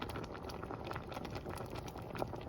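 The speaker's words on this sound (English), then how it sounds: "Now we just want them to cook in there in their own juice." Figs simmer in their own juice for jam on a stove, producing a soft, continuous bubbling and popping patter with small irregular bursts, close and moderately quiet, with no voices.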